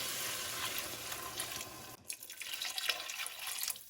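Two cups of water pour into a soup pot holding browned hot Italian sausage, a steady close splashing stream that breaks off midway and then resumes in uneven gushes.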